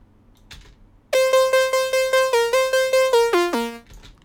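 A dry Xfer Serum synth lead with its effects switched off plays a run of about a dozen bright, buzzy, evenly spaced notes that step down in pitch at the end, then stops.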